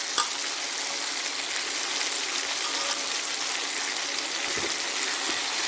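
Chopped capsicum and onions sizzle in a pan with a bright, continuous crackle of frying, steady and close, with a few small pops and no speech over it.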